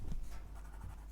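A sketching pen scribbles a dense patch on a spare sheet of paper, giving a close, continuous scratchy rubbing with quick back-and-forth strokes.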